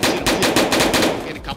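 Rapid automatic gunfire in a Roblox shooter game, a loud continuous burst of closely spaced shots lasting well over a second before trailing off.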